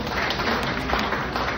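An audience at a kindergarten graduation ceremony applauds, a dense, steady round of many hands clapping together at close range, ending abruptly.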